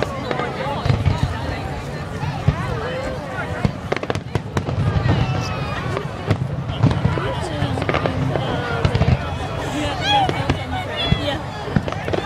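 A closing volley of consumer fireworks at a public display, with rapid repeated bangs and crackles layered over a crowd talking and cheering nearby throughout.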